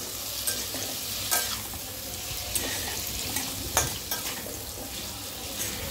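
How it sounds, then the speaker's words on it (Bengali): Potato pieces fry in a pan before chicken is cooked, making a steady close hiss of sizzling oil with occasional soft scrapes and crackles. "ফার্স্টে আলুটাকে ফ্রাই করব"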